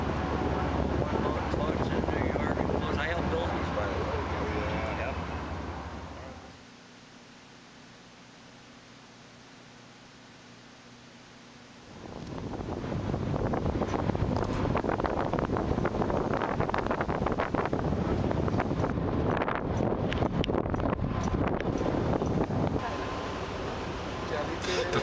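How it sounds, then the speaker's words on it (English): Wind buffets the microphone on an open ferry deck crossing from Seattle to Bremerton, a steady loud broadband rush that drops away briefly midway before returning, with engine and water noise mixed in. "here's some footage from our first ferry ride on vacation"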